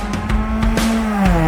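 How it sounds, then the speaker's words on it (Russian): A Chevrolet Cobalt race car engine revs toward 7000 rpm with a sustained buzzing tone that rises and falls, broken by short sharp bursts, loud and close. "Двигатель крутится до 7000."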